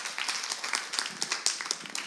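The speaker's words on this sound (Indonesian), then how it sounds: "sekali lagi tepuk tangan buat Tuhan kita yang hebat" Light, scattered applause from a church congregation at a women's worship service, moderately quiet, with uneven claps at a slightly distant feel, continuing steadily for about two seconds.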